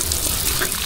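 Water gushes onto the base of an eight-month-old sweet jackfruit tree on a farm, a brief, loud, close splashing pour with no speech.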